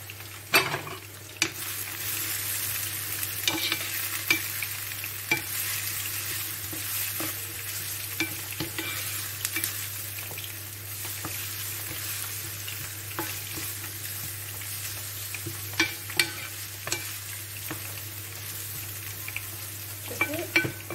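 Eggplant fries in a pan for an aubergine and meatball tajine, giving a steady, close sizzle throughout with occasional clicks and scrapes of a utensil against the pan.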